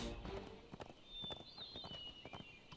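Horse hooves of an Uruk-hai rider in the video game Lord of the Rings Online clop along in a steady walking rhythm, quiet and somewhat distant, alone without talk.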